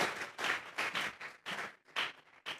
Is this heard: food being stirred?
no